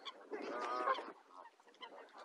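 Waterfowl at the Nymphenburg Palace grounds, where swans and ducks are being fed, give a run of nasal honking calls close by, fairly faint overall.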